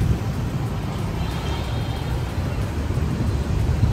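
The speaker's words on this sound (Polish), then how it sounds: "Po prostu motocykle, samochody i wszystko nie mają końca." Busy street traffic in Saigon, motorcycles and cars streaming past in a dense, continuous roar of engines and road noise, with no talking.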